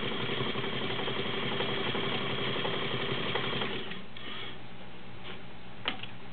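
A vintage blue White/Domestic model 5135 sewing machine runs in a smooth, quiet, steady mechanical hum with a fast ticking rhythm, then slows and stops with a few soft clicks near the end.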